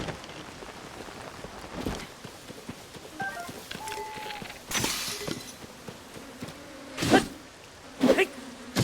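Bees buzz in the video game Zelda: Tears of the Kingdom, a low droning hum running throughout, broken by several sharp crackling impacts.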